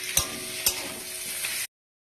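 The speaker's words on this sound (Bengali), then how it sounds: "এবার এটা আমি দিয়ে দিচ্ছি আলু ফুলকপি ভাজাটা, দিয়ে নাড়তে থাকবো, একটুখানি দিয়ে কষতে থাকবো।" Fried potato and cauliflower stirred in a hot pan, with a continuous close sizzle punctuated by two sharp spatula knocks and a softer scrape, no voices.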